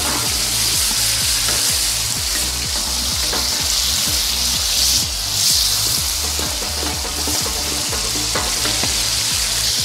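Vegetables for ratatouille stew in a pan with a steady, loud sizzle and bubbling, joined by regular stirring scrapes, with no voices.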